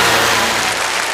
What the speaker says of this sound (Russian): Михаил, эти аплодисменты вам.